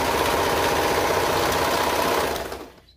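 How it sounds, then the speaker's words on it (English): A serger runs at a steady fast buzzing whir while sewing the shoulder seam of a crop top, close and loud, then winds down and stops near the end, with no talking. "I'm gonna go ahead and sew the shoulder seam here"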